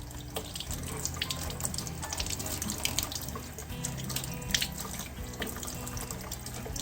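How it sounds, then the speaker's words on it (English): Lukewarm tap water runs steadily from a faucet over lead jig heads in a sink, a continuous splashing rush with small clinks and drips scattered through it, close and moderately loud with no voices. "we're just going to rinse these off with just some lukewarm water"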